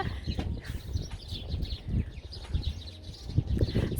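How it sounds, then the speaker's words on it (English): Birds chirp and tweet outdoors in a steady, busy chorus, with soft low rumbling underneath and no talking. "there are a lot of birds chirping"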